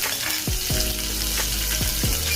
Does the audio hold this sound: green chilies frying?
yes